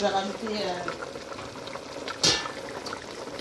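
Meat simmering in a pot for soupe joumou with little water left, a soft bubbling hiss under a voice talking, with one sharp clink midway.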